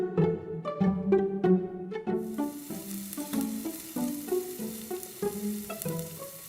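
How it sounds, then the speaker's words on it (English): Apple slices drizzled with agave syrup gently fry in a pan over low heat, a soft sizzle under a light, rhythmic melody. "Then turn on the stove to low heat and gently fry them."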